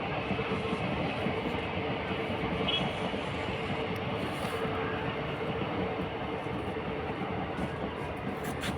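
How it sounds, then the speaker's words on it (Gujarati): A train rumbles past continuously at moderate distance in Ahmedabad, a steady broadband roar with no voices. "ટ્રેન જાય છે હજુ."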